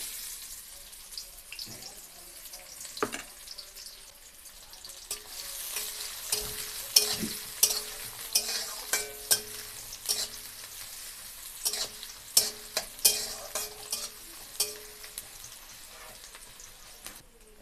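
Chopped onion frying in oil in a wok while lote fish is cooked, a steady sizzle with scattered sharp crackles and stirring clatter building through the middle, close and fairly loud, with no talk.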